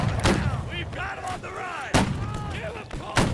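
Musket volleys crack out in a Battle Cry of Freedom line-infantry battle: a loud close shot opens, another sharp blast near the middle and a third at the end, with players shouting and talking throughout.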